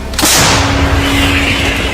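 A single heavy blast from an M777 howitzer booms nearby, followed by a rumbling, reverberating tail that fades slowly.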